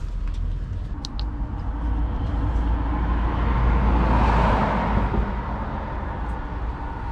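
A diesel refrigeration unit on a refrigerated trailer starts up and runs, giving a steady, loud, engine-like rumble that holds for several seconds and swells slightly partway through, with no voices.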